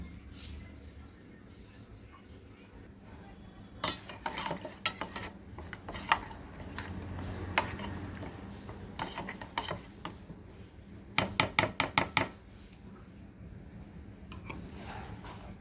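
Mustard paste is mixed into hilsa pieces inside a steaming box, with bursts of scraping, clattering spoon-on-metal strokes that come in uneven clusters and a fast rattling run near the end.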